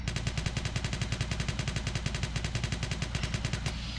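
Rapid automatic gunfire from the Poly Battle video game, a steady stream of close, loud shots firing in fast rhythm for several seconds before cutting off.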